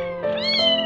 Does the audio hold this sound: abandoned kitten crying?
yes